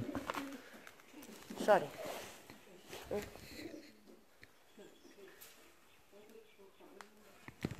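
Pigeons coo softly inside an abandoned former school, with a few low calls rising early on under quiet speech and footsteps in an echoing interior.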